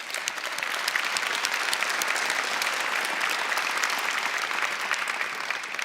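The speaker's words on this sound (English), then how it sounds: "So let's give them a round of applause." A large audience at a campus conference applauds continuously, a dense, even wash of clapping that holds steady at full strength throughout.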